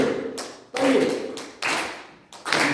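A congregation claps in a fast, steady rhythm while singing a hymn unaccompanied at a church service, the sharp claps repeating over a roughly steady pulse with voices underneath.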